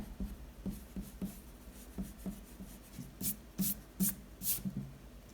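Eraser rubbing out pencil lines on drawing paper, soft repeated scratchy strokes with a few sharper brushing bursts near the end, quiet and close.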